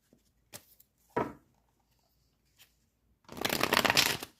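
Tarot cards are shuffled and handled: a few quick riffles and slaps, then a long, loud burst of dense shuffling close by, with quiet gaps in between.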